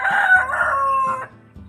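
A rooster crows once, loud and close, a drawn-out call lasting over a second, with faint low background noise.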